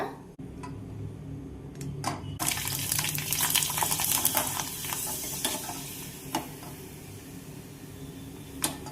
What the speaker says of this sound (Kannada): ಎಣ್ಣೆ ಕಾದೈತಿ. ಹಪ್ಪಳ ಹಾಕ್ತೇನು.